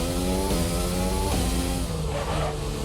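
Race car engine in a sim racing game braking hard and turning in at the Hungarian Grand Prix, steady loud engine tone dropping in pitch as revs fall, then shifting and climbing again through the corner.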